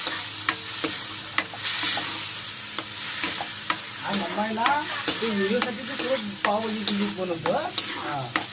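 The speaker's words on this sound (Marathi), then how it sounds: "बटर गरम झाल्यावर लसूण आणि आल्याची पेस्ट टाकणार आहे असं भाजून घ्यायचा" Garlic and ginger paste frying in hot butter, a close sizzle broken by regular sharp clanks and scrapes of a spoon stirring the pan, no talk.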